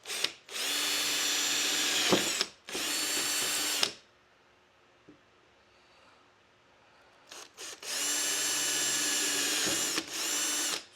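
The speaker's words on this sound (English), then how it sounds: "All right, no turning back. Let's drill." A power drill whirs loudly in several bursts through a 2024 Nissan Z trunk, stopping and starting, with a quiet pause in the middle before two more long runs.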